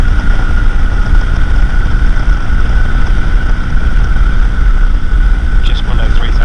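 A flexwing microlight's engine drones steadily while throttled back to about 3,000 RPM on approach, a loud continuous buzzing hum with wind rush that stays constant throughout.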